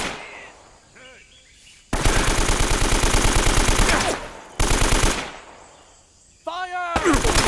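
Automatic weapons fire rattles in long, rapid bursts within the Uncharted: Drake's Fortune video game, loud and close, separated by short gaps with brief chirping effects and a voice calling out between volleys.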